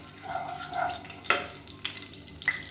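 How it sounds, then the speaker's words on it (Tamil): Cumin seeds frying in hot refined oil, giving a faint sizzle with a few sharp crackles and pops scattered over a couple of seconds. "சீரகம் வந்து நல்லா பொரியணும்"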